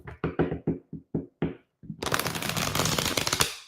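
A deck of tarot cards is cut in a series of sharp separate slaps, then riffled in a dense, continuous flutter that runs close and loud for nearly two seconds.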